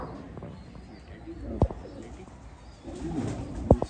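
Pigeons coo softly and fairly close in a loft, a low murmuring with a couple of sharp clicks or taps.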